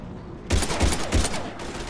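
Gunfire from the video game Mass Effect 3 sounds as three heavy, booming shots in quick succession. Each shot has a sharp punch and a short tail, over a faint background hum.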